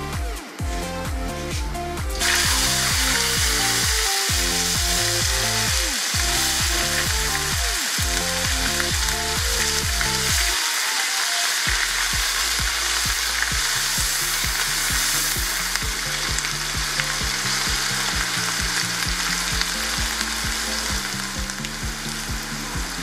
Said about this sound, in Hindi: इसी तेल के अंदर ही हमारा प्याज है तो ये डाल देते हैं।